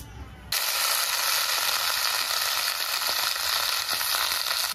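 Panch phoron, a Bengali five-spice mix, hits a small amount of hot oil with a sudden loud, steady crackling sizzle that holds strongly and evenly to the end.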